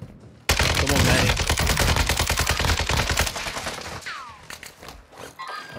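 Sustained rapid gunfire in a video game, loud and close as shots hit the player, with sharp repeated cracks that thin out toward the end.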